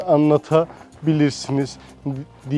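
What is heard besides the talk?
No distinct noise like a dog, phone or traffic.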